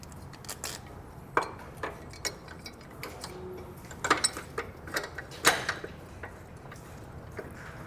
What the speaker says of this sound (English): We're then going to slide our bolt through our bracket and then put our components back in place in the same order.